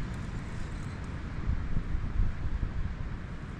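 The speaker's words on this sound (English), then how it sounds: "windy night, the wind's all over the place" Wind buffets the microphone at night beside Yeadon Tarn, a lake, during carp fishing, a steady low rumbling roar that swells in gusts through the middle, with no voices.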